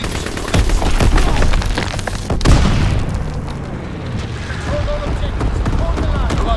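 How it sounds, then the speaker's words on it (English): Heavy booming blasts from an incendiary firebombing run in Call of Duty: WWII, a loud rolling barrage with a big impact near the middle, then a lingering rumble and crackle as voices chatter over it. "Firebombing run awaiting target. Ready to drop incendiary."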